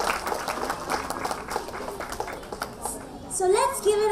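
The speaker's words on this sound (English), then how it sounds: "One more round of applause." Applause from an audience at a school annual day celebration as the chief guest is welcomed, a steady patter of clapping with voices and a child's chatter over it, followed by a speaker talking.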